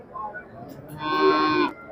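A single dairy cow at a cattle market in Shahjadpur, Sirajganj, moos loudly and close by, a drawn-out low call of about a second, following a brief stretch of quieter background noise.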